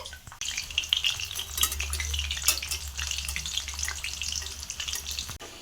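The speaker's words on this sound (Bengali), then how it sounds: "আবারও আমরা পটলগুলোকে ঠিক একইভাবে ভেজে নিচ্ছি" Batter-coated pointed gourd pieces fry in oil over a low flame, a dense, even crackling sizzle that starts abruptly and holds steady throughout, close by with a low hum beneath and no talk.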